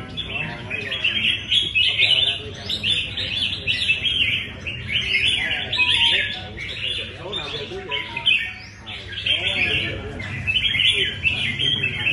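Songbirds at a Vietnamese bird-fighting competition chirp and trill continuously and loudly, with dense overlapping calls and crowd chatter running underneath throughout.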